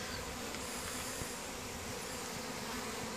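Bees buzz in a dense, continuous hum, close and steady throughout with no talking.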